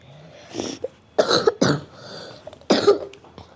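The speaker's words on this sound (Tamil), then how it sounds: "நான் அப்பப்போ இருமுனேன்னா அதை எடுத்து அதை கண்டுக்காதீங்க." Several harsh coughs in quick bursts, close and fairly loud, with short quiet gaps between them and no talking.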